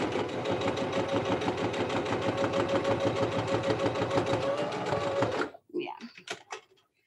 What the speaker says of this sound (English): I'm going to put it back in my machine. And then I'm going to sew it back down.